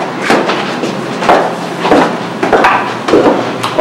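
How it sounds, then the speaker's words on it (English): Footsteps descending outdoor stairs, a series of repeated thudding steps at an uneven walking rhythm, close and fairly loud, with no voices. "we're going down the 87 steps."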